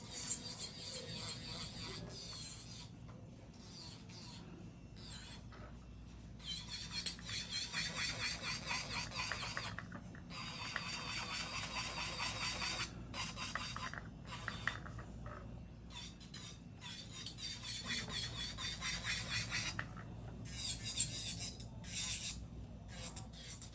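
An electric nail drill bit smoothing the surface of acrylic nails during a 90s-themed refill, heard as a close, continuous high-pitched whirring rasp that breaks into short bursts and pauses as the bit is lifted and reapplied.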